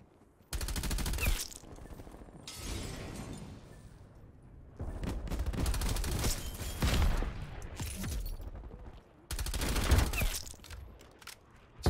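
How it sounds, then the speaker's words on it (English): Rocket launch and blasts amid heavy gunfire in Call of Duty Cold War, a multiplayer shooter match; loud bursts of firing and explosions come in three dense waves separated by quieter stretches. "Guy shot a rocket at me."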